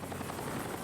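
A state police helicopter's rotor throbs steadily, a dense close chopping drone with no other sounds over it.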